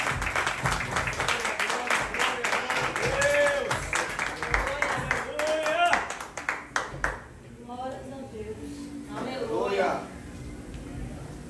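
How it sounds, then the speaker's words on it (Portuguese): Clapping from a church congregation during an evangelical service, rapid hand claps mixed with voices and singing for several seconds, then fading into quieter speech. "Você aplauda ao Senhor"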